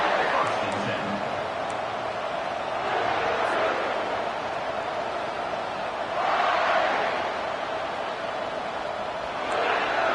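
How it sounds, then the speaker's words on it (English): A college football stadium crowd roars continuously, a dense, loud wash of cheering that swells in waves, with a commentator talking over it. "this crowd is fired up. Listen to this noise here."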